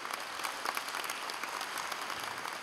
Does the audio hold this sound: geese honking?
no